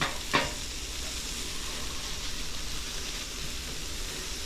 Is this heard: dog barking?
no